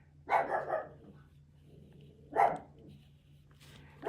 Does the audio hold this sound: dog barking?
yes